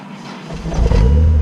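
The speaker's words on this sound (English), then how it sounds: "It wants to start, but I think the battery is super low." A BMW M3 with a very low battery cranks without catching: a brief, weak starter grind that swells in a low rumble for about a second, close and alone.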